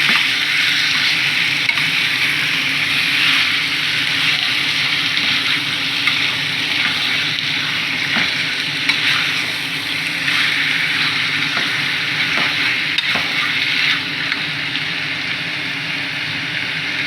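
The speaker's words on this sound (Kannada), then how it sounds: "ಈಗ ಅರಿಶಿನ ಹಾಕಿ ಒಂದು ಸಲ ಕೈ ಹಾಕ್ತಾಯಿದ್ದೀನಿ" Pepper chicken dusted with turmeric sizzles steadily in a frying pan, a dense continuous frying hiss broken by occasional scraping stirs from a spoon, close and fairly loud throughout with no talking.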